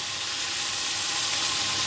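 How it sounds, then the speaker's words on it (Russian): Steady, dense sizzling of seasoned scallops frying in a hot pan, a continuous bright crackle that holds even for the whole stretch with no talking. "И жарим 2 минуты."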